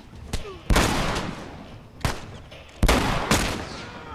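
Gunfire in The Last of Us video game, with four or five heavy shotgun-like blasts spaced a second or so apart, each with a booming tail.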